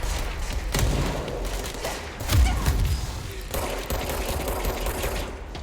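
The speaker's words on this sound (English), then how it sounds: "those are grenades!" Grenades explode amid rapid gunfire during a combat sequence in the video game Control, with dense bursts of shots, a heavier booming blast in the middle and continuous loud battle noise throughout.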